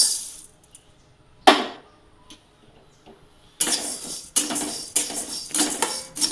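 Coriander seeds dry-roasting in a pan for Maharashtrian kala masala, with a sharp clatter as the seeds drop in, then near silence before repeated rough rattling bursts of seeds being stirred and tossed.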